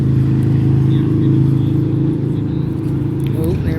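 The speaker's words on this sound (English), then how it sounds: "It's a motorcycle." A motorcycle passes near a dog park, its engine a steady low drone that slowly fades, with people talking over it.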